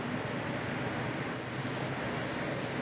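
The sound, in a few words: LPH80 spray gun spraying light coat of paint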